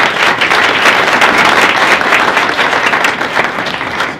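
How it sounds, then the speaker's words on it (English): A loud, dense round of applause fills the room from a large audience at a Black History Month event, steady clapping throughout that eases slightly toward the end. "if you could just give yourselves a round of applause for making it out today"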